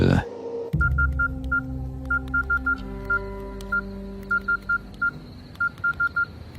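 A series of short phone keypad dialing beeps in irregular bursts, following a brief sound at the start, with a faint background hum.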